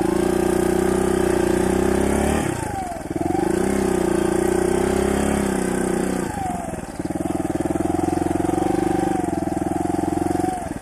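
A 2015 Suzuki DR200 dirt bike ploughs through thick sand on a trail, its single-cylinder engine droning loud and steady with brief dips and rising revs as the rider rolls off and back on the throttle.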